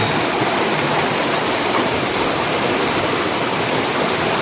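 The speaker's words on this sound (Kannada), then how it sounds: "ಕಾಲುವೆ ನೀರಿನ ಬೋರ್ಗಿಳಿತ ಹೇಗಿದೆ ಅಂತ ನೋಡಿ" Steady, loud rush of water gushing through an old irrigation canal at Hampi fills the whole clip, a constant broadband roar with no pauses and no voices.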